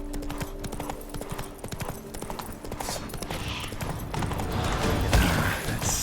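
Roach, the horse in The Witcher 3, galloping in quick, loud hoof clip-clops, with a busy background of game sounds.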